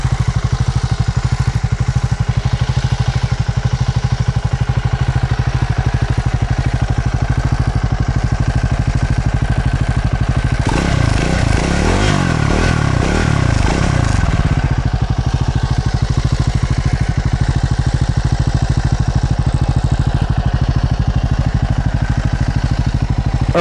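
A 2024 Triumph Scrambler 400X motorcycle engine drones steadily while riding, loud and continuous, with wind buffeting and a rougher rumbling stretch midway.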